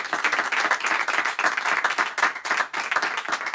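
A comedy show audience gives steady, dense applause, many hands clapping continuously at moderate loudness for a few seconds.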